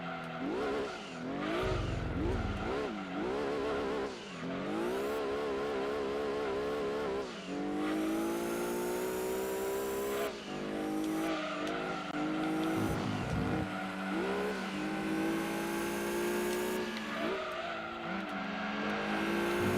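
Race cars roar through the Gran Turismo 2 endurance race on PS1 at Apricot Hill, with continuous high-revving engine whine that rises and falls through gear changes and occasional tire squeals, loud and steady throughout.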